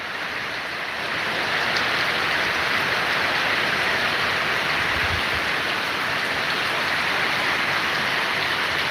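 The first monsoon rain falling steadily, a dense, even hiss of rain on surfaces that swells after the first second and holds loud and constant throughout, with no voices.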